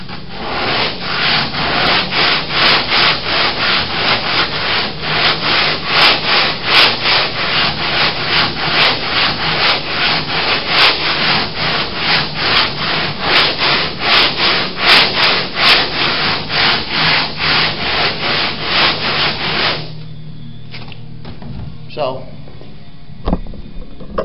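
Wood being hand-sanded on the canopy frame of a Cozy Mark IV homebuilt aircraft, a steady rhythmic scraping of back-and-forth strokes, loud and close for about twenty seconds before stopping, followed by quieter handling noise.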